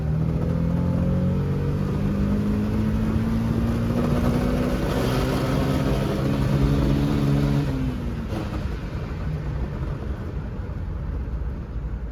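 A tuned car engine, pushed toward 9000 rpm and about 200 hp, revs hard with a loud, sustained droning whine that climbs steadily, then drops to a lower roar near the end.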